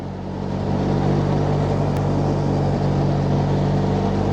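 A car engine drones steadily while the driver shifts down through the gears, slowing for a speed camera. The low rumble is continuous and moderately loud, heard from inside the cabin with no other sounds on top.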